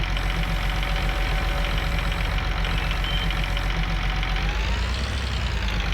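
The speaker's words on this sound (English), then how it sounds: "make sure that this tractor, which is our highest horsepower tractor, can handle it" A high-horsepower tractor engine in Farming Simulator 19 runs with a steady, close, knocking diesel rumble and a faint rise in pitch near the end.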